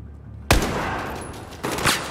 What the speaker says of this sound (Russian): Классный выстрел, Рекер!